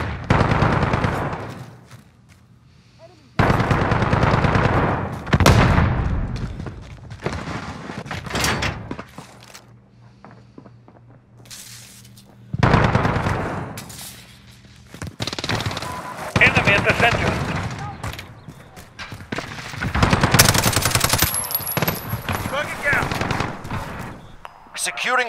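Bursts of rapid gunfire in Call of Duty: Modern Warfare, in several clusters, loud and close, separated by brief quieter gaps with low rumbling ambience and occasional voices.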